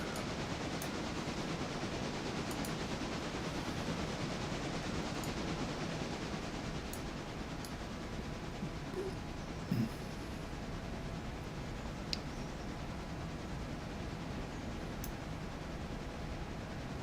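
A steam train rolls slowly along track in a train simulator game, a steady rumbling drone with faint clanks and squeals throughout, no talk.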